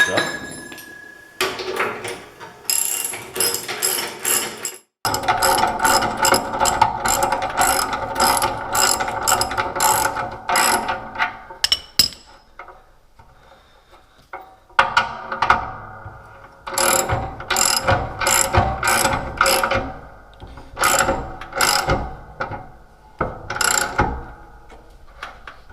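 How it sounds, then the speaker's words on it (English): A spanner ratcheting to tighten a bolt on snow plow shoes, rapid metallic clicking in long bursts with short pauses, loud and close. "Let's put our spanner underneath here onto the bolt."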